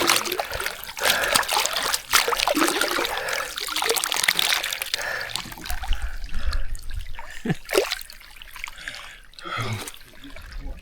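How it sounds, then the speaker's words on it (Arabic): Hot water flows from a well in the Siwa desert, trickling and splashing close by in an uneven, bubbling stream with small drips and spatters throughout. "الماء اللي طالعة عاملينها سخنة جدا."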